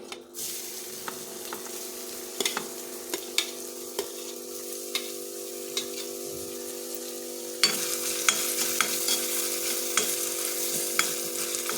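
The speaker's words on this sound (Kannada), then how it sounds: "ಈಗ ನಾನು ಶುಂಠಿ ಮತ್ತು ಬೆಳ್ಳುಳ್ಳಿನ ಹಾಕ್ಕೊಳ್ತಾ ಇದ್ದೀನಿ." Ginger and garlic frying in hot oil for momos, a steady close sizzle with small crackles and pops throughout, growing louder and brighter partway through.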